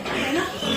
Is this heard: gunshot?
no